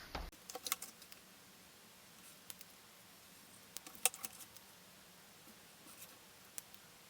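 A ZSCM dual tip acrylic paint marker scratches and taps softly across black paper, giving faint, scattered strokes and ticks close to the microphone in an otherwise quiet room.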